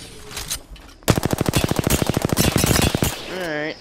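Rapid automatic gunfire from the Apex Legends video game rattles in a loud, steady burst of about two seconds. Brief quieter game sounds come before it and a short tonal effect follows.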